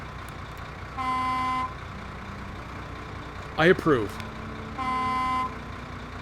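A truck horn blares twice, each blast about half a second long, separated by a few seconds; a voice speaks briefly between them.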